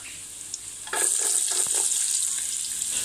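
Garlic hitting hot oil in a pan for fried rice sets off a sudden loud, steady sizzle that continues close up without voices.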